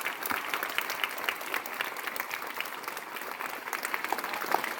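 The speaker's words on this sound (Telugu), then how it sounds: "గట్టిగా చప్పట్లు కొట్టాలి." Loud audience applause at a motivational talk, a dense steady roar of many hands clapping together for several seconds, close and continuous with no speech over it.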